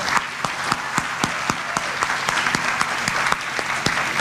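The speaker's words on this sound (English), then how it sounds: "Let's give them all a round of applause." Steady audience applause fills a hall at a high school senior awards night, many hands clapping densely with a few sharper claps standing out, no voices over it.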